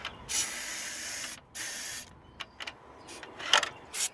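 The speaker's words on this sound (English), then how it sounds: "gonna open this and spray some fuel down in here." Several short bursts of hissing spray of fuel into a car engine's intake, some lasting about a second and others brief puffs, close up in a quiet setting.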